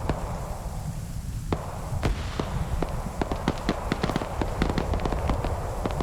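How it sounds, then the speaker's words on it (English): Grenades burst across a ridge in a military video game battle, a rapid scatter of sharp pops and cracks from several distances over steady low rumble, with no talk. "popping grenades all over"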